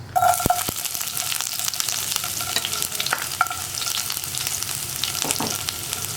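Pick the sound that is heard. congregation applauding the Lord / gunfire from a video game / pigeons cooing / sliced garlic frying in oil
sliced garlic frying in oil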